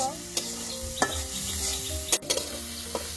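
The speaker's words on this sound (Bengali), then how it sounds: "মশলাটাকে খুব ভালোভাবে কষিয়ে নিচ্ছি।" Spice paste made with chili, coriander and turmeric powders, salt and cumin paste fries in a pan, a soft steady sizzle broken by sharp spoon scrapes and clanks at irregular intervals, close up and with no voices.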